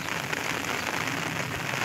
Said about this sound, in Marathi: अचानक झालेला हा अवकाळी पाऊस आणि जवळजवळ ही ढगफुटी झाली अचानक